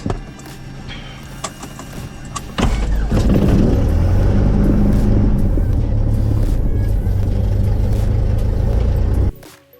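A small propeller airplane's engine cranks and catches, then settles into a loud, steady running drone with a low rhythmic throb, cutting off abruptly near the end.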